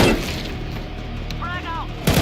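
A flashbang grenade goes off in Counter-Strike as a loud, sharp blast with a crackling broadband burst, followed by a short ringing tone and a second hit at the end.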